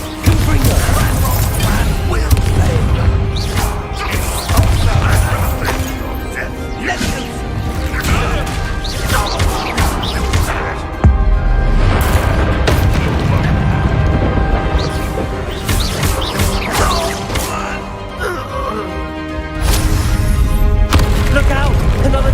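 Confringo blast spells exploding during a troll boss fight in Hogwarts Legacy: loud, dense booms and crashes over driving orchestral music, with voices shouting in between.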